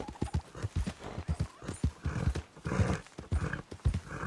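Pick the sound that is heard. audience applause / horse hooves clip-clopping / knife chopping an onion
horse hooves clip-clopping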